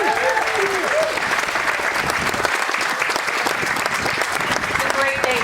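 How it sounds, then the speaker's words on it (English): Audience applause at a Lansing, Michigan ribbon-cutting ceremony for the state's first electric aircraft, a dense, steady wash of clapping that holds for several seconds, with voices audible mixed in. "How about a round of applause?"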